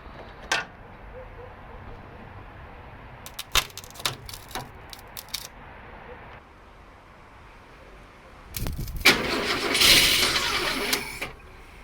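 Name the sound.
1962 Mercury Comet engine cranking with welded starter solenoid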